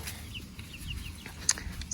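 Small flock of chickens in a backyard coop sheltered under trees, with soft scattered clucks and a few sharper calls over a low outdoor rumble, fairly faint.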